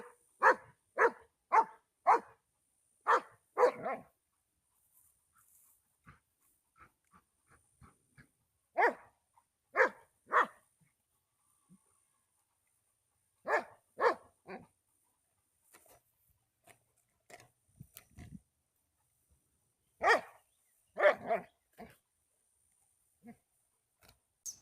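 Labrador retrievers bark in clustered bursts of several sharp woofs, separated by silent pauses, close and fairly loud with no talking.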